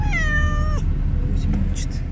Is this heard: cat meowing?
yes